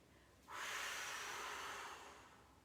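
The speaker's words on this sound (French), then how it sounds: "Vous soufflez." A single long, soft breath blown out through the mouth during a relaxation exercise, a close airy rush that starts suddenly and fades over about a second and a half, with no talking.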